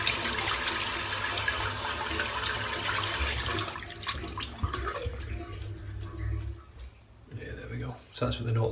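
Running water from a tap rinses a boar-knot shaving brush in a bathroom sink, a steady rushing splash close by that grows more broken and sputtery midway as the brush is worked under the stream, with someone talking over it.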